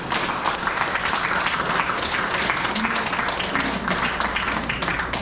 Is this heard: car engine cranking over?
no